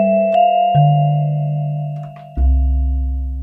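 A Casio keyboard plays its vibraphone preset: three sustained, bell-like notes struck one after another, each ringing steadily, the last one lower and fuller. The notes are heard alone and clearly.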